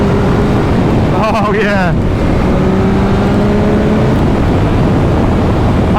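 A 2023 Yamaha MT motorcycle at full throttle: a brief rising engine howl climbs in pitch and fades, followed by steady wind buffeting, with a short excited shout from the rider.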